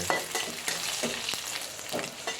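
Dried fish (shutki) frying in a pan, a dense continuous crackle and sizzle with repeated scraping strokes from stirring, close and fairly quiet.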